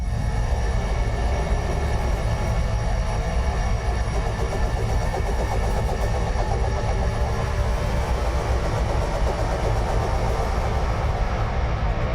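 A dense, steady electronic drone hums on and on, thick and rumbling with a faint pulsing texture, loud and unchanging throughout.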